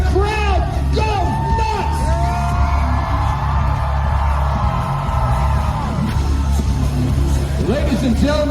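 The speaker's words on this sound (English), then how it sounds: "And the crowd goes" A crowd at a jousting event yells and whoops loudly in a sustained burst after the knights take their lances, with shouts and calls rising over a low steady rumble.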